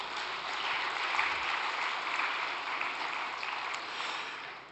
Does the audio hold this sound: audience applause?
yes